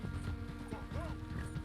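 A horse's hooves clip-clop at a riding pace in Red Dead Redemption 2, in a brief burst of rapid, muffled hoofbeats under a busy game soundscape.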